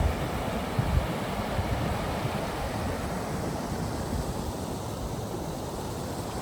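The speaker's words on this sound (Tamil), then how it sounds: "இதில் ஓடுற தண்ணியின் சத்தம் தான் இந்த சத்தம்" A waterfall's steady, dense rushing water roars without pause, a broad continuous wash of sound with no voices.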